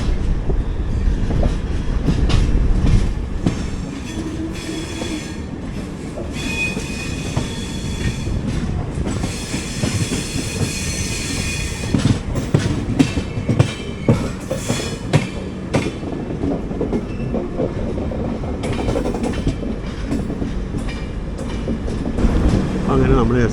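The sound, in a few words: Garib Rath Express train entering Kozhikode station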